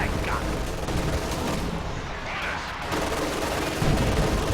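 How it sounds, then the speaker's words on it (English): An incendiary artillery barrage in Company of Heroes 2 rumbles continuously as loud overlapping booms and crackling fire, a dense and heavy wash of explosions with no clear gaps. "Taking a whole bunch of friendly fire though from the incendiary barrage."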